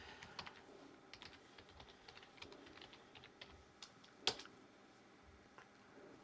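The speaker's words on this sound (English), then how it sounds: "when you're typing in the password here" A password being typed on a computer keyboard during a family's switch from Windows to Linux: a steady run of quiet, close key clicks with one sharper tap near the end, and no talking.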